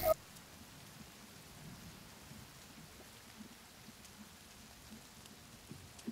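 Rain in the survival game The Forest falls as a faint, steady patter and wash, with low rumbling underneath and no voices.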